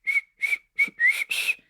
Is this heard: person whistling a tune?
yes